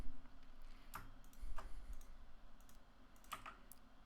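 Typing on a computer keyboard while programming a Chamsys lighting console, a few sparse, quiet key clicks spread irregularly across the stretch over faint background noise.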